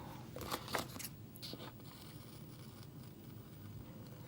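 Scissors snip through planner stickers in a few quick cuts near the start, followed by quieter handling and faint rustling in a calm indoor setting.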